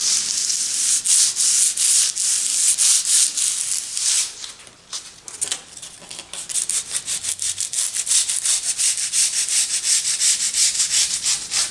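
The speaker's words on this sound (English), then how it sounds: "Now I'm just gently going around the edge with a bit of fine sandpaper." Fine sandpaper rubbed by hand around the edge of a wooden wedging table, rhythmic close scratchy strokes in a steady back-and-forth pattern with a short pause midway, no voices.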